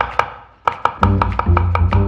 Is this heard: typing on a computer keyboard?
no